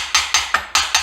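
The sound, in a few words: lightly tapping engine parts to seat them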